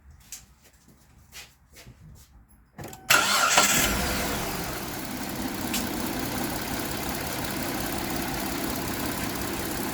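A Kia car engine cranks and catches after a few sharp clanks, then settles into a steady, slightly uneven idle with a cylinder misfire, running close and continuous.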